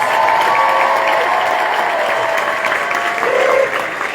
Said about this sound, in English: please give a massive round of applause to Lauren, Amanda and Katie